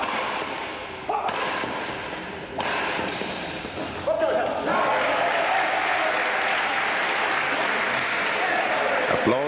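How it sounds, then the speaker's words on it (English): A badminton crowd breaks into applause after a winning return, a dense wash of clapping that swells and holds loud in a hall, with a commentator's voice running over it. "Applause from the crowd for a return which found George Hugh and Paul Liao out of position altogether"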